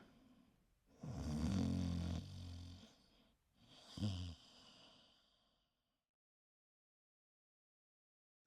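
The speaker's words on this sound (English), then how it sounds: "listening to the wolf's soft snores in my ear" Two slow, soft snores close by, each a deep rumbling inhale, followed by silence.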